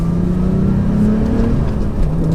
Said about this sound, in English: I have the valves open in the exhaust because it just sounds really good.